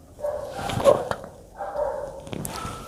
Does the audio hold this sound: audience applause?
no